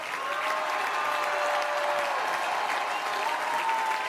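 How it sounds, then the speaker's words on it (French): Dense, sustained applause from a large audience at a Jean-Luc Mélenchon rally in Saint-Denis, an even wall of clapping that stays loud from start to finish. "Oui, vous pouvez applaudir."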